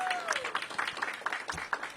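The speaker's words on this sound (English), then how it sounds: "Give her a big round of applause." Brief applause for a speaker at a DC public elementary school early learning center event, a short patch of scattered clapping with mixed voices and crowd noise.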